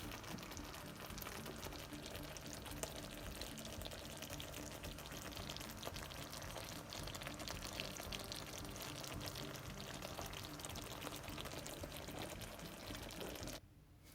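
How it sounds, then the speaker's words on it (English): Sweet and sour sauce poured over cooked fish, a steady close liquid pour and sizzle running evenly for about fourteen seconds before cutting off abruptly at the end. "go ahead and pour the sauce all over it"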